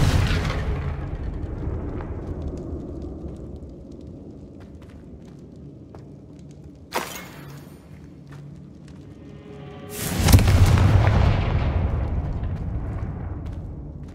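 Confringo fire spell exploding in the Hogwarts Legacy video game: a deep rumbling blast near the end, after a sharp crack midway, over a steady low background hum.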